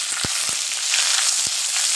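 A tempering with bay leaf sizzles in hot oil for mashed masoor dal, a dense continuous hiss punctuated by three soft low knocks of a stirring spoon.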